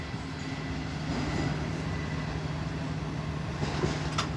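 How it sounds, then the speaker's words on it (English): A train passing by in Jacksonville, Florida, a steady loud rumble with rhythmic wheel clatter and a low hum that holds throughout. "And there goes the train."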